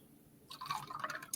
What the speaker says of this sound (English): Then you're going to add 4 ounces of coconut water.